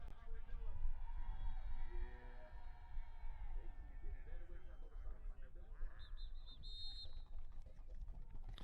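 A crowd at a neighbourhood Halloween block party cheers and shouts, a dense wash of voices throughout with people talking and calling out nearby.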